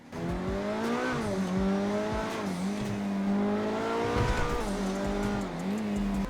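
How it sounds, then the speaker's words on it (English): A video game car engine starts up and revs steadily with a V6-like harmonic drone, pitch rising and falling in several swells, loud and close with no talking. "we've got more of a V6 noise than a V8."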